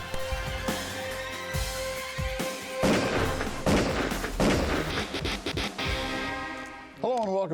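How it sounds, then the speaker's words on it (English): Several sharp gunshots ring out in quick, irregular bursts during a road-rage confrontation in a parked or moving vehicle setting, loud and close, mixed with tense voices and background commotion. "She's shooting."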